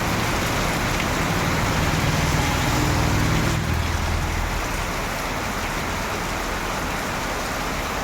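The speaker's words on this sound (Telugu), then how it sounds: "పైన వర్షం పడుతున్నా కూడా చూసుకోండి ఎంత బాగున్నదో వాతావరణము" Heavy monsoon rain pours down steadily in Manuguru beside a roadside, with a passing vehicle rumbling low during the first few seconds before the dense hiss of rainfall carries on alone.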